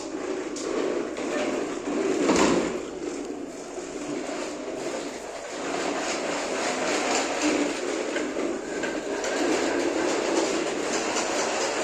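A toy train runs along its track, giving a steady rolling, clattering sound that keeps going close by for the whole stretch, with no talk over it.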